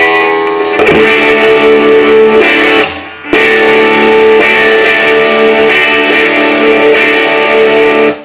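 Electric guitar played through an amplifier set clean with the distortion pedal switched off, loud sustained chords ringing continuously with one brief drop near the middle.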